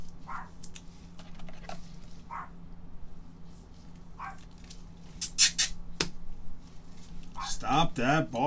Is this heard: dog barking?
yes